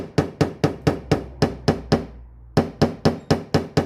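Hammer tapping out a dent in a car body panel using hammer blending: a rapid, even series of sharp metallic blows about four per second, close and loud, with one brief pause before the rhythmic striking resumes.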